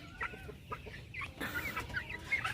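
Free-range chickens in their cage cluck nearby in a quick run of short, overlapping calls, with a few higher squawks breaking in toward the end.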